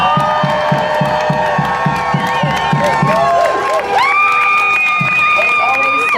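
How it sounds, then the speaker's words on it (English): A hometown crowd at an event in Pierre screams and cheers for the local team, loud continuous roaring with rhythmic claps or stomps, then rising whoops near the end. "I want to hear you scream for your hometown team"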